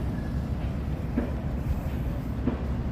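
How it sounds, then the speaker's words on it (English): A train passes in the New Orleans French Quarter with a steady, close low rumble and a couple of sharp wheel clacks spaced about a second apart. "Hear that train coming?"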